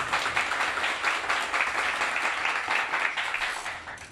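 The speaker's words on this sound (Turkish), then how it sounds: "güçlü bir alkış yapmamız gerekir" Steady, dense applause from a hall full of people at a morning logistics company meeting, a continuous wash of many hands clapping together throughout.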